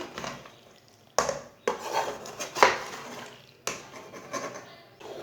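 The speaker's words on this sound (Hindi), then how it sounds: "अब इसे अच्छी तरह मिक्स कर लेंगे।" A spoon mixes macaroni with ketchup in a pan, giving several sharp metallic clanks and scrapes at irregular intervals between quieter rubbing and stirring noises, close by with no talking.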